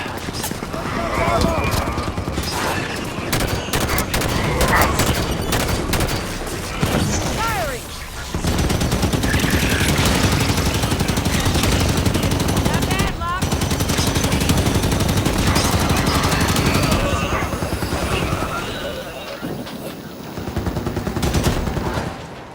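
Rapid turret gunfire in the Halo 5 video game, dense bursts of shots running almost without pause under game dialogue and battle noise, loud and close throughout.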